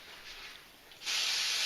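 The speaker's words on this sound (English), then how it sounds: "just spray a paper towel" Cooking spray hisses from a can onto a paper towel, a faint airy hiss that jumps to a louder, steady burst for the final half second.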